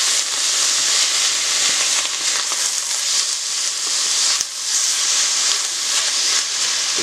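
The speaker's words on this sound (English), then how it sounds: "I'm going to give this a good stir." A pot of creamy mushroom soup being stirred, with a steady bubbling hiss and faint scraping strokes close by, one brief knock midway.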